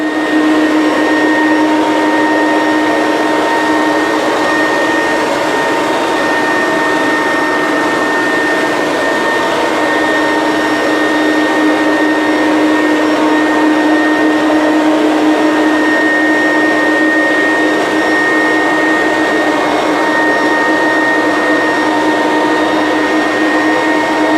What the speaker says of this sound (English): It's getting this floor spotless clean. Getting up all the dust